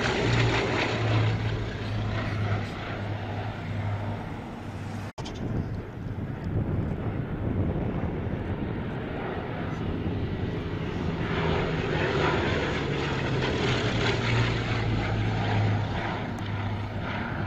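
A vintage propeller aircraft flies at the Shuttleworth airshow, its loud, steady engine drone filling the whole stretch with a brief dip partway through and wind noise on the microphone.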